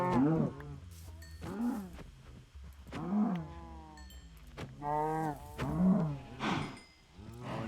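Cows mooing in a blocky Minecraft-style game, a series of low drawn-out moos overlapping one another in steady succession, loud and close.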